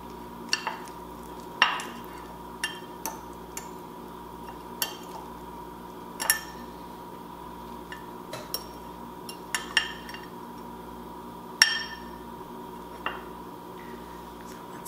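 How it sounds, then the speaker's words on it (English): Spoon or spatula scraping through shrimp, rice and Thai chili garlic paste in a pan, with a string of separate clinks and scrapes over a faint steady hum, close and fairly quiet. "Mix that in real well with my rice"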